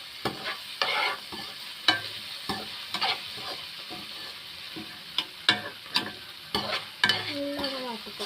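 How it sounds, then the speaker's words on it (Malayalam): Chopped tomatoes and onions sauté in a pan for a Kerala-style egg roast, with a soft continuous sizzle broken by repeated sharp scrapes and clinks of a spatula stirring at an uneven pace. "ഒക്കെപ്പാടൊന്ന് മിക്സ് ആക്കി കൊടുക്കാം. നല്ലോണം വാട്ടി കൊടുക്കാം."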